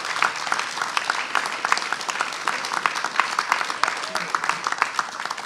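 A room full of people at a press conference on a minimum wage bill claps steadily for several seconds, a dense, moderately loud patter of hands with some voices mixed in.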